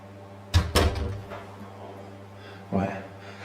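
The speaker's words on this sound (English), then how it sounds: "Right, that's a door slam." A door slamming at Haden Hill House during a haunted-house investigation: two sharp, closely spaced bangs, then a softer thump a couple of seconds later, muffled and somewhat distant in a quiet room.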